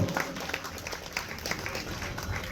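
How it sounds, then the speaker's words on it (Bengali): An audience claps for a volunteer at a magic show held at SSKM Hospital, a brief, fairly quiet burst of applause with some voices mixed in. "একবার জোরে হাততালি হয়ে যায় ওনার জন্য"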